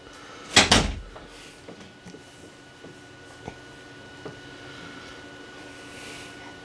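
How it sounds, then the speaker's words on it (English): An indoor room door shuts with a single close, solid thud, followed by a few faint clicks and small knocks in an otherwise quiet room. "I'm going to shut the door"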